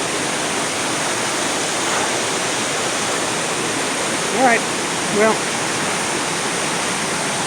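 River water roaring over Class 5/6 rapids and bouncing off a rock wall makes a steady, dense, unbroken rush, with someone briefly speaking over it.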